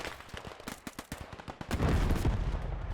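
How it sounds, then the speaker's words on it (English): Machine gun fire in the WWII game Gates of Hell, a rapid run of sharp close bursts that gives way to a dense, loud roar of continuous gunfire and explosions. "Oh, MG's gonna open up. It's gonna cut a few down."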